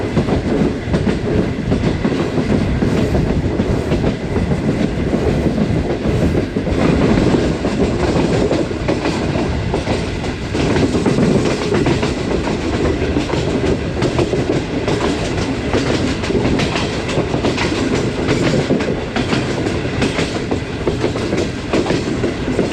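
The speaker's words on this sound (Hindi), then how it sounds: "दोस्तों इस वक्त ट्रेन हमारी संजवाल रेलवे स्टेशन से पास थ्रू हुई है" Awam Express train on a new rake runs steadily along the rails past a station, with continuous loud rumbling and rhythmic clickety-clack of the wheels heard from inside the carriage.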